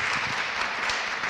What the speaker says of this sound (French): Bonsoir Marie-Agnès, on peut l'applaudir.